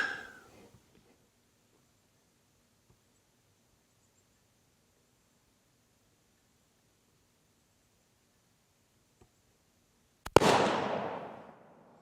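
A single loud gunshot from a Savage MSR 10 Hunter rifle in 6.5 Creedmoor, fired at a 100-yard range: a sharp crack with a decaying tail near the end, after a long stretch of near silence.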